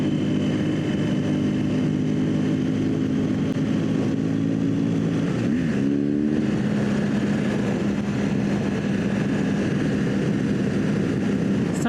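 A BMW R1200GS adventure motorcycle on Michelin Anakee tires climbs a mountain ridge, its steady engine drone loud and close throughout, with a brief rising and falling shift in pitch midway.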